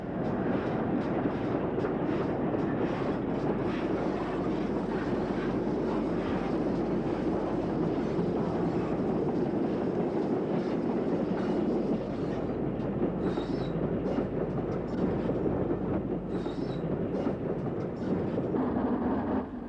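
A GWR Collett 2800 class steam locomotive passes with a loud, continuous rumble and rolling rail noise that stays dense and steady throughout.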